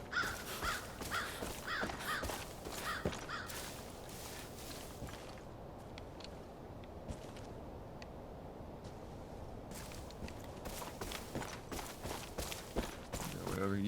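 Crows cawing repeatedly in a custom Far Cry 5 Arcade map, harsh calls spread across the scene along with in-game footsteps, and a person talks over parts of it.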